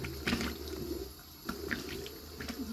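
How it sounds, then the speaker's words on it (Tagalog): Tap water splashes softly as a face and neck are rinsed by hand, with faint intermittent splashes and trickling over a steady low background hum, close and quiet. "Pagkatapos syempre, magbabanlaw na tayo."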